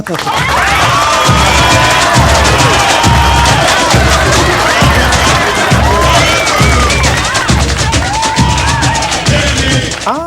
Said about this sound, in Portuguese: Palmas pra ela.